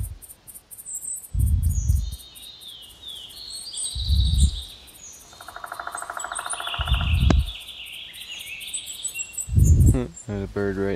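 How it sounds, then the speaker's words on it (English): In the hunting game TheHunter, a bird chirps close by amid outdoor insect buzzing, with several soft low thumps spaced through the scene. "There's a bird right next to me, I can hear it flying away."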